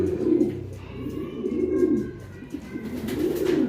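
A racing pigeon coos repeatedly nearby, soft throaty calls rising and falling in a slow, steady rhythm.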